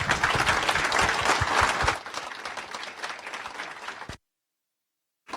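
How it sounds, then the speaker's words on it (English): An audience at a Connect 15 panel event applauds the panelists, with dense clapping for about two seconds that thins into scattered claps, then a sudden cut to silence before a brief return. "please give our panelists a round of applause again"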